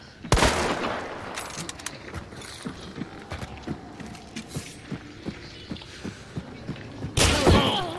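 Gunfire in the video game Hunt: Showdown: a sharp close shot opens, then a string of muffled thuds and footstep-like knocks at a steady pace, and another loud burst near the end, without talk.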